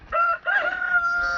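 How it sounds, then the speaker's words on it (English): A rooster crows on a farm, a loud, near cock-a-doodle-doo in two rising and falling phrases with a brief break between them, heard alone with no talk. "That's why old Daddy Rooster come running up here to see what's going on"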